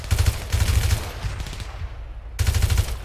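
Bursts of automatic gunfire in GTA V, two rapid rattling volleys, a shorter one, then another burst after a brief lull, loud and close with no talk over them.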